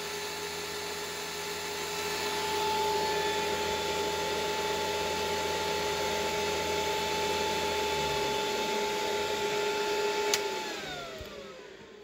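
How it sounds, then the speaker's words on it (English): CNC machine spindle running on a Planar PCT2235 under LinuxCNC, a steady loud whine with sustained tonal hum that holds for several seconds, then winds down in falling pitch near the end. "I can start the spindle up."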